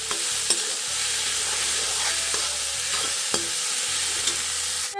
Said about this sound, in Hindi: मैं इसको घी में अच्छे से भून लेंगे पूरे 5 या फिर 10 मिनट तक के।